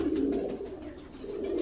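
A young pigeon coos in two soft, low, throaty phrases, close by and fairly quiet, with a brief pause between them.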